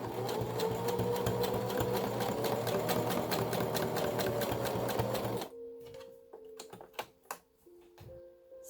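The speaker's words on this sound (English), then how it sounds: "I'm going to do this sewing over again with the zigzag stitch so that I'm sure it's going to stay very well together" A sewing machine running a zigzag stitch on fabric, a loud steady rapid whirring hum for about five seconds, then stopping, followed by faint clicks and handling noises.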